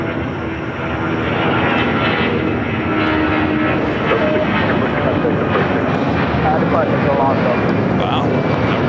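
Air China Cargo Boeing 747 on final approach to LAX's south side, arriving from Anchorage: a loud, steady broadband jet engine roar that holds throughout, with faint voices underneath.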